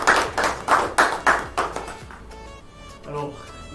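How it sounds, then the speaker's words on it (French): Audience applause at a French-language scholarship awards ceremony, a burst of rhythmic group clapping that fades after about two seconds into a quieter room with faint voices. "Alors, on peut d'abord applaudir quand même."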